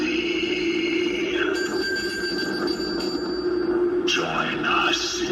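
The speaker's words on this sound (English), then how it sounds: "The corpse bell slowly tolls for thee." A Lowe's Halloween corpse bell decoration rings with a continuous metallic electronic bell tone under a deep, spooky recorded voice, loud and steady throughout.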